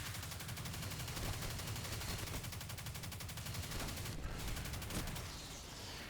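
Turret gunfire in a video game exotic mission on legendary difficulty comes as a dense, rapid stream of shots, a loud continuous fusillade with rattling bursts that eases slightly near the end, with no voice over it.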